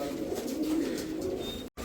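Domestic fancy pigeons, white Madrasi-type birds, coo in low, throaty, continuous murmurs close by, with a brief dropout near the end.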